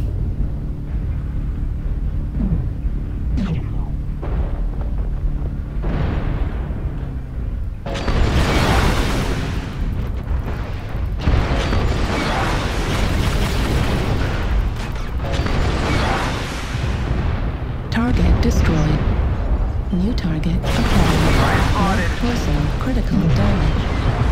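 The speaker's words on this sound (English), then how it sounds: "Hear components exploding." Mech components explode in the game MechWarrior Online, with repeated loud booms and crashing blasts over constant mechanical rumble, and a voice talks intermittently.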